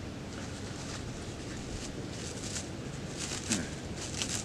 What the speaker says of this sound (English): It's windy, so I'm just going to cover it up for a few minutes